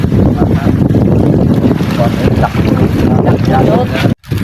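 Strong wind buffets a boat at sea in rough weather, roaring steadily and loudly across the whole stretch with a low rumble, cutting off abruptly near the end; faint voices sit under the gusts.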